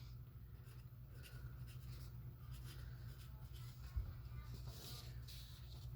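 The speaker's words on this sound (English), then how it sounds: "So now I'm going to write canyon." Pencil writing on a paper worksheet at a steady, close, fairly quiet level over a low background hum, with one soft tap partway through.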